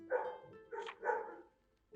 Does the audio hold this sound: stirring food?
no